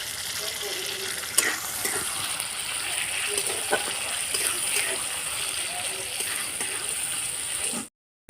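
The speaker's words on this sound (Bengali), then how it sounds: "বাটি ধোয়া জলটা দিয়ে দেবো" Water from rinsing a bowl poured into a pan of papaya, potato and chickpea curry with fried onion, tomato and ground spices, giving a steady sizzling, gushing splash that runs close and loud for several seconds before stopping.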